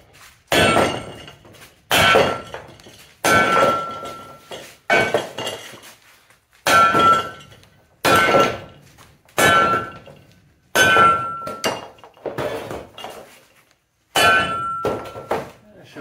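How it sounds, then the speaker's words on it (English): A hammer whacks foam off a cast aluminum gantry riser for a CNC plasma cutter: about ten loud, sharp metallic clangs land at roughly even intervals, each ringing briefly before the next strike, with no talking. "let me try whacking some more"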